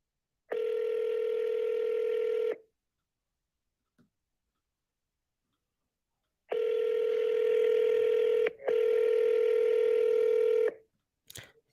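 Telephone ringback tones on an outgoing real estate call, long steady rings separated by silent gaps, loud and clean, with no talking.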